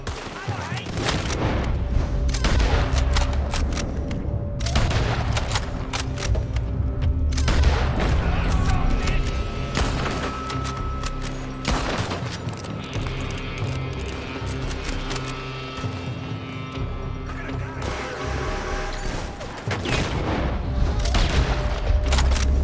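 Gunfire rattles from a building during a Red Dead Redemption 2 shootout, with repeated bursts and heavy booms all the way through, loud and dense over a rumbling battle background.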